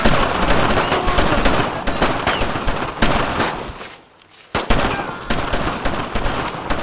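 Sustained, loud machine gun fire in a retro tactical video game rattles in rapid bursts, with a brief pause near the four-second mark before the firing resumes just as intensely.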